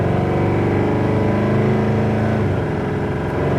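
A 1971 Chevrolet C10 pickup truck cruising at highway speed around 70 mph, its engine drone steady and loud throughout, with a gear shift changing the tone partway through.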